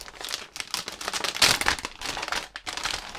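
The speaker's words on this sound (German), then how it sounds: "Das ist immer noch die größte Tüte, die es für einen einzelnen Köder gibt, die ich hier je in der Hand hatte" Plastic packaging bag holding a single fishing lure, a large pouch from a pike lure mixed box, crinkles and rustles continuously as it is handled up close, with a louder crumpling burst partway through.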